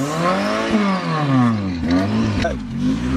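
A Chevrolet Nova's engine revs up and down in loud, rising and falling sweeps close by, with a few blips and a voice briefly talking under it.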